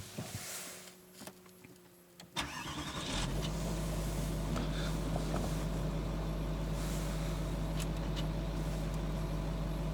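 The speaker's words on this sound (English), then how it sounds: "Let me just start the car up." A Range Rover TDV8 diesel engine cranks and fires after a quiet moment, then settles into a loud, steady idle with a constant low drone that runs to the end.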